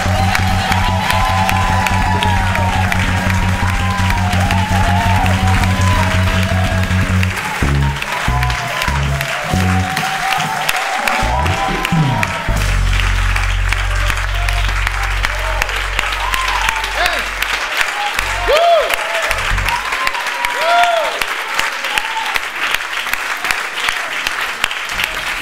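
A church congregation applauds and cheers in worship, loud sustained clapping mixed with shouts and whoops, while music and voices carry on underneath and a speaker is heard over the crowd.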